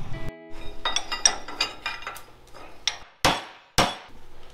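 A hammer strikes steel tubing while a rat rod wrecker's roll cage is custom bent, a rapid run of ringing metallic blows followed by two sharper, louder hits, close and alone.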